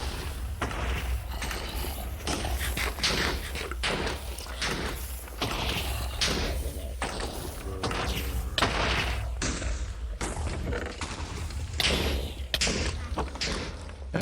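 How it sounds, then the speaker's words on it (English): Repeated heavy thuds and booms of video game explosions at a Minecraft trial spawner burst through a dense, busy mix, loud and steady throughout with sharp impacts every second or so. "There's just explosions and death everywhere."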